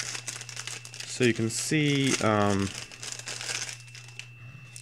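Plastic packaging on a 1/35 Takom St. Chamond French heavy tank model kit crinkles and rustles up close in a few short bursts, with someone talking over it.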